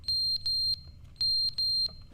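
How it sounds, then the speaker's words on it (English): Alarm clock in the video game The Stanley Parable, beeping in two groups of high, steady electronic tones, three to four short beeps each, clear and alone over a faint low hum. "Did this alarm clock just break?"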